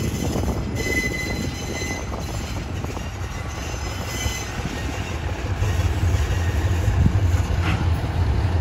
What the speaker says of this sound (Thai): ก็ทำการถอยนะครับเข้าสู่ย่านสถานีสุราษฎร์ธานี